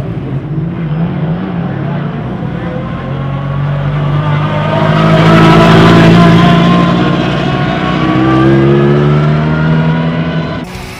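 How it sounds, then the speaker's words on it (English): A Formula-style race car engine roars and revs, swelling louder as it drives past near the middle, with rising and falling engine pitch throughout and a faint voice in the background. "Driving the Formula seems really fun"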